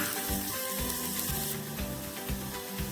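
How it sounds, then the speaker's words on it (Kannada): Onions sizzle and fry steadily in a pan with cumin for a capsicum curry, a dense, continuous crackle with a faint tonal hum underneath and no talking. "ಈರುಳ್ಳಿ ಕೆಂಪಾಗೋವರೆಗೂ ಸ್ವಲ್ಪ ಹೊತ್ಕೊಳ್ಳೋಣ"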